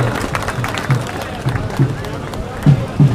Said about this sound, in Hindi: आदरणीय महंत श्री का जोरदार तालियों से हार्दिक अभिनंदन कीजिएगा